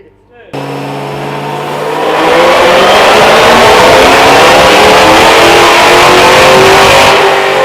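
A car engine revs hard on a dyno run, a loud sustained climbing roar that builds after a brief start and holds at full throttle to the end.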